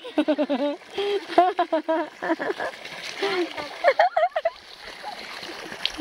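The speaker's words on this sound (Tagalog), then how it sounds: "Lakas ng tubig, Clark." Strong water gushing and splashing, overflowing during outdoor bathing and laundry, runs as a steady wash beneath lively nearby talk and calls.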